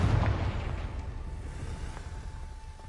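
Confringo fire spell from Hogwarts Legacy bursting with a loud low boom at the start, then a rumbling tail that fades slowly under a steady hum.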